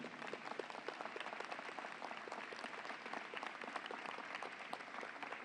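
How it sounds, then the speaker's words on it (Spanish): Audience applause at a political event in Argentina, a steady, even wash of many hands clapping heard from some distance, sustained without a break. "Fuerte aplauso para Milagros."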